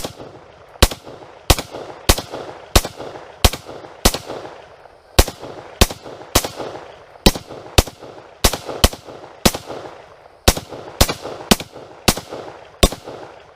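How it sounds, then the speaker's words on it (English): Rapid single shots from a Radical AR rifle on an outdoor range, a 20-round magazine emptied in a steady run of about twenty loud, sharp cracks spaced under a second apart, each with a brief echoing tail. "So I got a 20 round mag in my Radical AR. Let's go ahead, send some lead."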